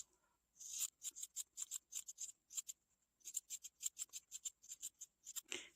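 Scissors snip rapidly through fabric while trimming a sewn seam allowance on a rabbit-ear doll headband, a quick run of sharp crisp cuts, a short pause, then another steady burst of snips, close and clear.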